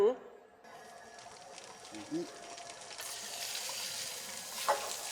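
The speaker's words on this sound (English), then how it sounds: "start it off on high heat. That way you get a nice sear, get a nice crust going on it" Salmon sears in a hot pan on high heat, a steady broadband sizzle that swells louder partway through, with brief voices speaking near the start.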